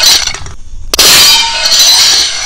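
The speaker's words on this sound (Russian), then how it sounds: "А ну-ка, две плитки сразу попробую пробить." Two tiles shatter as a BlackView BV6200 Pro rugged smartphone is smashed down on them: a loud clang and crack, a short gap, then a second sharp hard impact ringing out with a bright clattering decay.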